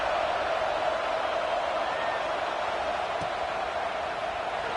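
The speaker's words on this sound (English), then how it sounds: "this crowd is buzzing after that last score" Football stadium crowd after a score, a steady dense roar of many voices buzzing continuously at full volume throughout.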